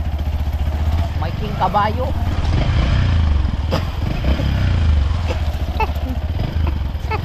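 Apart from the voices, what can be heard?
motorcycle engine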